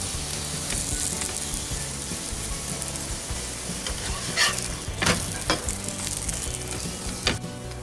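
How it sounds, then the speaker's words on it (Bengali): Keema paratha fries in oil in a pan, cooked on both sides, giving a steady, close sizzle throughout with a few louder crackling bursts near the end. "এই তেলটাতেই দুই সাইডই ভেজে নেব ভালো করে।"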